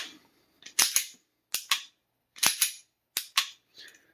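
Metallic clacks from a Sig Sauer P365 Macro pistol slide being racked back and released forward, several sharp, close snaps in pairs with short gaps between them.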